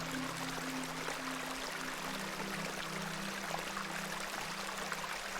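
Water flows in the pixel horror point-and-click game The Excavation of Hobs Barrow, a continuous pouring stream with a steady low hum beneath it, moderately loud and with no voices.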